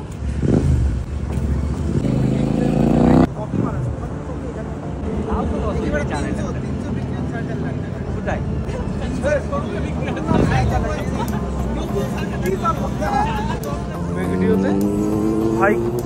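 A Royal Enfield GT 650 motorcycle engine rumbles on a Sunday morning group ride, with steady road and engine noise throughout and a couple of revving surges near the start and end. Voices talk over it.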